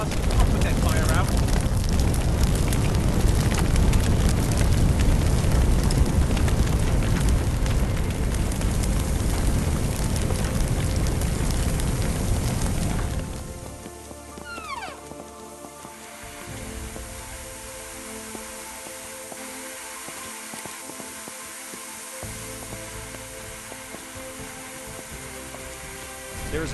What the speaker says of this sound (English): The AI squad leader will grab a hose and start combating the fire.